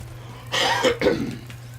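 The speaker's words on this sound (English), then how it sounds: "I'm terribly sorry about the coughing as well." Two or three short, harsh coughs with some throat clearing come close to the microphone, separated by brief pauses, over a low steady hum.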